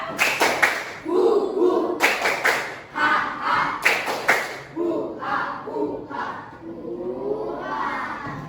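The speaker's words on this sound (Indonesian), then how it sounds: "Tepuk rimba." Fifth-grade primary pupils perform the 'tepuk rimba' chant, bursts of sharp group claps in patterned sets alternating with children chanting and shouting together, loud and near.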